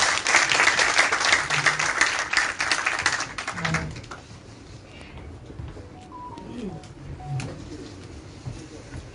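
Loud applause from a crowd at a political gathering where social figures join the BJP in Jammu and Kashmir, dense for about four seconds, then fading into quieter background noise with scattered claps.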